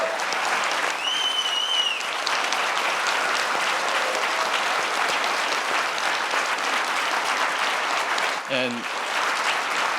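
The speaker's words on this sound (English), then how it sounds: "could we give a round of applause to the PPMD staff?" Sustained, full applause from a large crowd at an annual conference, steady and enthusiastic for the whole stretch, with a brief voice cutting in near the end.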